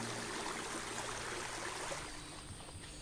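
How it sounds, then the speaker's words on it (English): Water flowing steadily into a pool as it fills in a dry gully, a continuous rushing trickle like a small stream, constant and moderately close, with no voices. "It moves like an alien force through dry gullies, and a very special place begins to fill with water."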